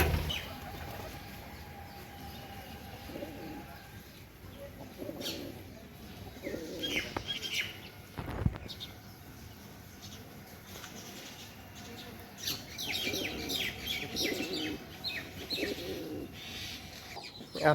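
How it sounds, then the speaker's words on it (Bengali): Domestic Giribaz pigeons coo softly in a loft, with repeated low cooing phrases, some wing flaps and a sharp clatter partway through, close and unaccompanied by speech. "আর আমার গিরিবাজ কবুতরের বাচ্চা আলহামদুলিল্লাহ ভালো আছে"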